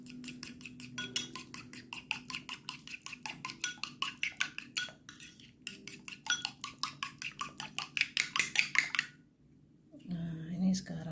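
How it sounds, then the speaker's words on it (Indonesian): A spoon scraping and clinking against a bowl while stirring nastar cookie dough, a steady rhythmic series of sharp ticks for several seconds, close, then a brief pause with a voice talking at the end. "Dan ini kita aduk ya."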